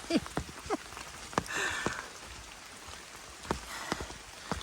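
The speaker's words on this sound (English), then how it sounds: "And it has rained the entire day." Rain falling along a hiking trail on the Appalachian Trail, a steady broadband patter with scattered sharper drop hits and a few brief louder splashes, close and continuous with no talking.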